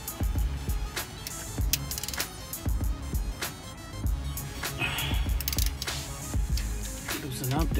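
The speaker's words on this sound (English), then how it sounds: "17 millimeter socket for this bolt and this bolt" A ratchet with a 17 mm socket works loose the brake caliper bolts on an Acura TL, giving repeated clicking pawl bursts and sharp metallic knocks close up.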